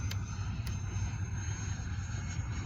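An E-flite 80mm F-16 electric ducted-fan RC jet flies overhead after takeoff, a steady whooshing whine held at a constant level at moderate distance with no talking.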